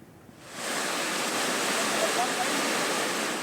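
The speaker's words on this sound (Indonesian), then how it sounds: "Banjir bandang akibat luapan sungai menerjang Kabupaten Mamasa, Sulawesi Barat." A flash flood of overflowing river water in Mamasa, West Sulawesi, rushes in a loud, steady, broadband roar that swells in within half a second and holds constant.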